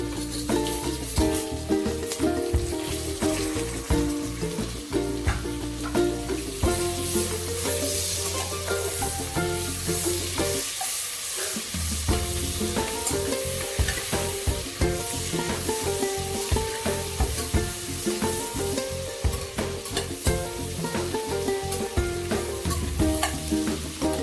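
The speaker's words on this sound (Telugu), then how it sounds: "గోల్డెన్ ఫ్రై అయ్యేంత వరకు కలుపుకోండి." Onions being stirred and fried in a pan with cashews and green chillies, a steady sizzle with scraping stir strokes running continuously and fairly loud throughout, no voices.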